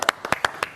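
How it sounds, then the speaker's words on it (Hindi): A small group of people claps indoors, a quick burst of several sharp, close hand claps in an uneven rhythm. "गाइस तालियां होनी चाहिए"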